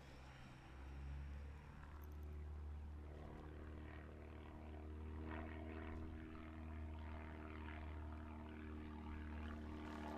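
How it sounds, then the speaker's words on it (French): A small propeller airplane drones steadily overhead, a continuous low engine hum that holds through the whole stretch with no voices, in a calm outdoor yoga setting. "Petit avion qui passe au-dessus de ma tête"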